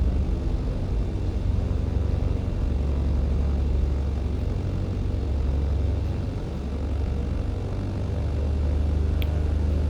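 A Britten-Norman Islander twin-propeller airplane taxiing in Microsoft Flight Simulator 2020 with mixtures leaned, its engines droning steadily and loudly with a constant low rumble throughout, with no talking.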